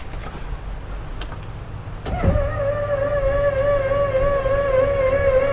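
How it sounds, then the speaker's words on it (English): An automatic engine hood lift on a boat starts with a click and then runs as a steady electric motor whine with a mechanical hum, close and continuous, and no voices. "this has an automatic engine hood lift"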